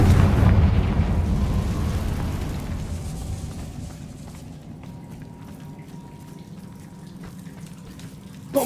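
A fire-spell blast from Confringo in Hogwarts Legacy hits with a heavy opening whoosh and rumble, then fades into a long crackling, hissing tail.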